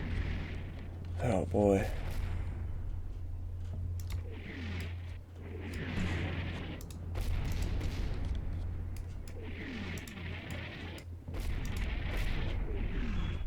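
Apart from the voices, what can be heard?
rocket artillery explosions in video game Combat Mission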